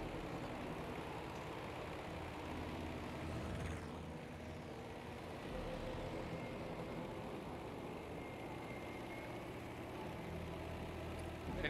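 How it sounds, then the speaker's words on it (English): American airplane engines in the video game Battlefield V, a steady, faint, continuous droning hum with a slight dip in level midway and no talk. "Enemy planes on your six."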